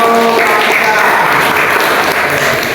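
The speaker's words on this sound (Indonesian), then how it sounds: "kasih tepuk tangan" Students in an Islamic jurisprudence class applaud in a loud, close burst of clapping, with voices mixed in over the clapping.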